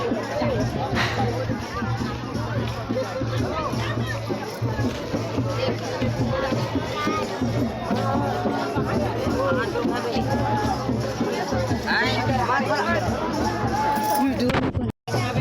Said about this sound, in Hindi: सब जन यहाँ बहुत भीड़ लगी है।